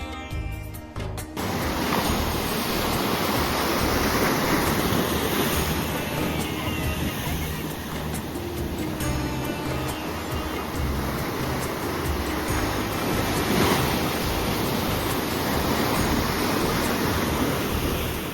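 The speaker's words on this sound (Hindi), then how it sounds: "ये लहरें और भी ज़्यादा ऊंची हो जाती है और तेज आती है।" Sea waves surge and crash on the beach at Puri in the evening, a loud continuous roar of surf with wind buffeting the microphone, after a brief rustling start.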